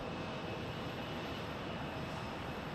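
A steady, broad jet roar from an airplane at Phoenix Sky Harbor Airport fills the short stretch without letting up, heard from a distance with no voices.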